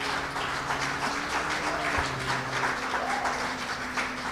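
An audience at a Christian church sermon applauds, a dense, steady wash of clapping that holds throughout, with a faint hum underneath.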